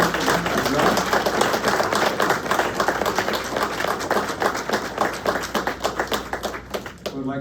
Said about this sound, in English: Please give a round of applause to our candidates.